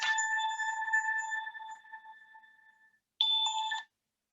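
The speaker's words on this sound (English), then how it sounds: "Uh-oh, somebody didn't turn off their phone." A mobile phone rings during a meeting, a bright electronic ringtone that sounds once, fades away, then starts again after a brief silence before cutting off abruptly, with no talking over it.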